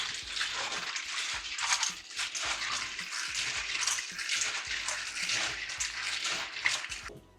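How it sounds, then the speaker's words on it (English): Fresh kidney beans are rinsed in water, with continuous close sloshing and rattling as the beans are swirled and rubbed by hand, in uneven pulses. "I'm just gonna wash these. Nice fresh kidney bean."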